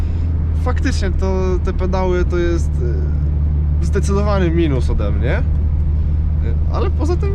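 A Skoda 105S, a small 45-horsepower car, drives along with a constant low engine drone heard from inside the cabin, while someone talks over it for most of the stretch.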